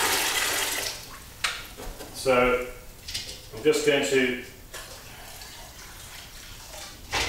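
Warm water heated on a stove is poured in short splashing bursts, close and moderately loud, while a potter readies to throw pots on the wheel in a pottery studio; someone speaks briefly between the pours.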